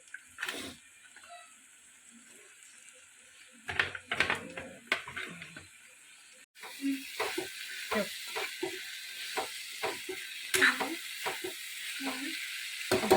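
Mushrooms tossed into a cooked, spicy masala start to sizzle and fry, with a soft hissing bed and irregular clattery stirring scrapes that grow busier after the midpoint, close up and moderately loud.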